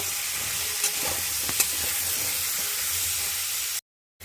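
Potatoes frying in a karahi with salt and turmeric hiss in a steady, close sizzle with occasional light stirring clicks, no voices, then the sound cuts off abruptly near the end.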